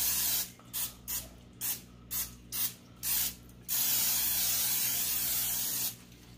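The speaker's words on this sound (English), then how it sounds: "spray the inside with a little bit of cooking oil" Seven short bursts of cooking oil aerosol spray hiss in a quick rhythm, followed by one longer continuous spray and a final burst; close and fairly quiet.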